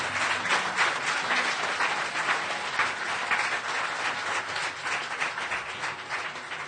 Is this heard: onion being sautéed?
no